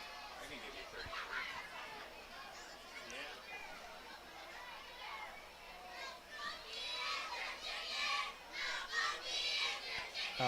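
Young cheerleaders at a high school football game between Susquenita and West Perry make noise to rouse the home crowd, a steady, busy wash of children's voices and crowd chatter that swells louder toward the end.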